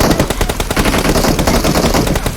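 Rapid automatic gunfire from PUBG Mobile, loud and close, a dense run of bursts filling the whole stretch without pause; no voices over it.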